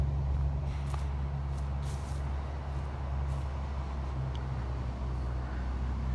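Heavy trucks rumble steadily in the background at an outdoor highland games site, a continuous low engine drone with faint distant hiss and no clear pass-by peaks.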